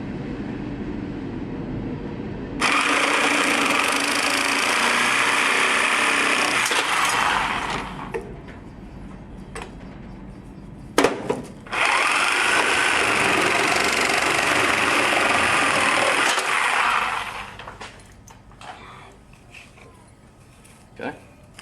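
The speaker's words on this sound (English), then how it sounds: "Sawzall." Sawzall reciprocating saw cutting PVC pipe for above-ground pool plumbing, two loud sustained bursts of buzzing cutting noise of about five seconds each, separated by a short pause with clatter.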